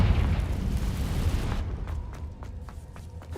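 The Confringo blasting spell in Hogwarts Legacy erupts in a loud, deep rumbling explosion that rolls on for over a second, then gives way to a scatter of fainter crackling pops as it fades.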